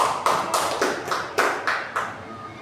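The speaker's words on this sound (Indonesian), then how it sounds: "Kasih aplaus." Applause in a mathematics class: a string of about nine crisp, evenly spaced hand claps in a steady rhythm, fairly close and clear, with no talking.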